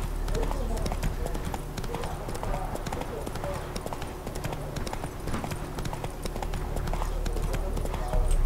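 Galloping hooves of a horse in The Witcher 3 clip-clop in a fast steady rhythm throughout, close and continuous, with someone talking over them.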